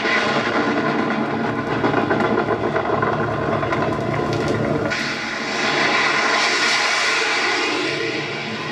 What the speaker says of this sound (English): our air support roars aloft